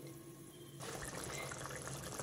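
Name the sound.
boondi curry broth boiling in the pot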